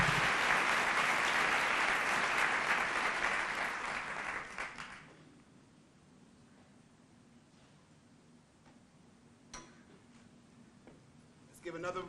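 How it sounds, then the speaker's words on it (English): Warm applause from a conference audience honoring young people, loud and dense at first, then fading out after about five seconds to a quiet room with a few scattered sounds. "Give another warm round of applause for our young people."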